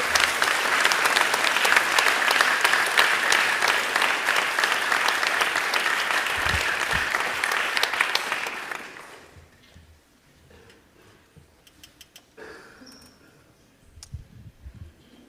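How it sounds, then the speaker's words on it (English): An audience at a school Veterans Day chapel service applauds the veterans with loud, sustained clapping for about nine seconds, then it stops and only faint room noise and scattered small knocks remain. "let's give our veterans a round of applause."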